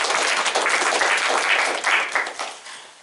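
Applause breaks out at a school district board meeting, a short burst of many hands clapping in a room that fades toward the end.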